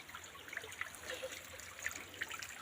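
A small mountain spring stream trickles and dribbles over rocks, with faint scattered drips and splashes, close and quiet, with no voices.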